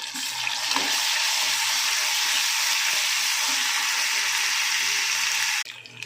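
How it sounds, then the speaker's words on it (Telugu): Cashews and onions fry in hot oil in a pan, a loud, dense, continuous sizzle with faint stirring scrapes underneath, ending abruptly near the close. "కొద్దిగా జీడిపప్పు కూడా వేసుకుంటానండి. ఉల్లిపాయలతో ఫ్రై అయిపోతాయి."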